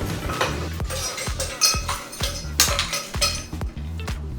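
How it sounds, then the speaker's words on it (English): Ice going into a glass for a stirred cocktail: a close series of hard clinks and clunks as cubes hit glass and each other, irregular and fairly loud over several seconds, with no talking. "for the stirred cocktail, basically you just want to put your ice"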